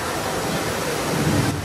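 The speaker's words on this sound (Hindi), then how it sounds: "सब वाटरफॉल देख लो भाई" A man-made waterfall inside Singapore's Cloud Forest dome, a dense, even roar of falling water that is loud and close, filling the short stretch without pause.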